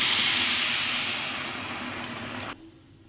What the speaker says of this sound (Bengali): এই যে জলটা দিয়ে দিলাম।